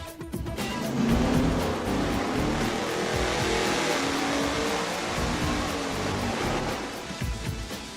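A V8 engine on a dyno with a MagnaFlow straight-through muffler, a steady broadband roar at high revs that swells early, holds loud and dense, then eases slightly near the end, with no voices.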